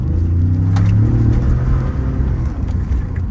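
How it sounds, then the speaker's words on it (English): A car engine fitted with a new custom intake and intercooler gives a steady, loud, close rumbling drone with a soft whooshing air rush riding on top, revving slightly and then easing. "it also has the cool whooshy sound now from the intake"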